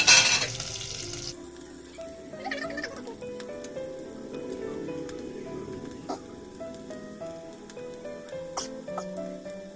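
Chicken curry base frying in a pan until light golden, with a steady, close sizzle, soft stirring clatter and occasional light pops; no one speaks.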